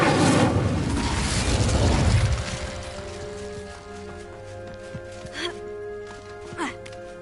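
A fire spell cast in Hogwarts Legacy erupts in a loud, roaring whoosh and burst that dies away after about two seconds, leaving a quieter game background with a couple of faint later pops.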